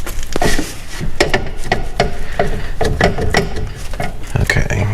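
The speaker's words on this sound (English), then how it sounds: "It is an impact screwdriver, and it twists when you hit it with the hammer" A series of sharp metallic hammer strikes on an impact screwdriver during Austin-Healey 3000 rear axle work land at a steady, somewhat uneven pace, each a crisp close-up impact with a brief ring.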